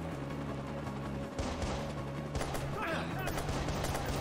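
AK rifle fire in Watch Dogs, a few sharp reports over a steady low game drone and background music.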